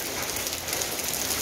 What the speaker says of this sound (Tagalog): Ito, ang dami na yelo.